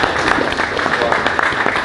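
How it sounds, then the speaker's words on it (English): Applause fills a boxing post-fight press conference room after Sunny Edwards vs Galal Yafai, for a new WBC world champion: dense, even clapping from the audience that stays at one steady level throughout. "please give the new WBC champion of the world a round of applause"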